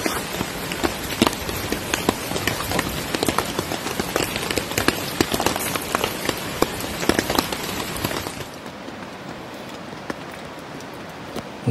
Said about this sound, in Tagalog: Medyo malakas po yung ulan.